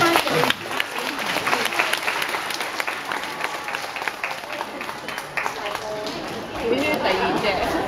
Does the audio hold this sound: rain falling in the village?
no